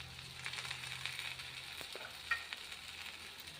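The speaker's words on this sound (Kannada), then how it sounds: "ನೋಡ್ರಿ ಹೋಳಿಗೆ ಹಾಕ್ಲಾಕತ್ತೀನಿ." Holige flatbread frying on a hot thin metal griddle, giving a steady, soft sizzle with faint crackles throughout.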